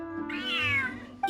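A large cat in the Genshin Impact video game gives a single drawn-out meow, clear and close over a soft low musical background.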